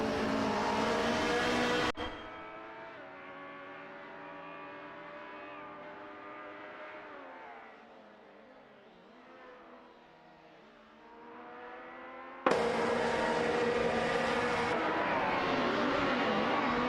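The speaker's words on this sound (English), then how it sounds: "Racing car dashing away." Race cars in an AI racing video game on the Brno circuit: a loud, high engine scream cuts off abruptly, fades to a softer pitch-sweeping whine, then the loud multi-car roar bursts back in.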